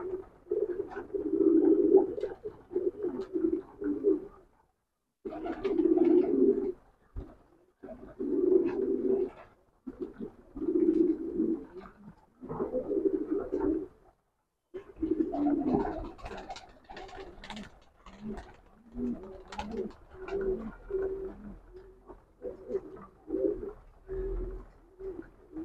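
Pigeon cooing in repeated phrases with short pauses between them, close and fairly loud. The bird is a straight-boned pigeon, and a few faint chirps and rustles sound near the end.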